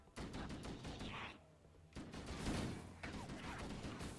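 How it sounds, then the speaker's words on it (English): Distant rapid gunfire from a weapon in the shooter game Halo, rattling bursts separated by brief pauses, faint and low in level with a clattering, muffled texture. "Some very consistent shooting there."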